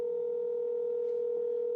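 A steady telephone dial tone hums on the line while another caller is being brought onto a call, one unbroken even tone with a faint click near the end.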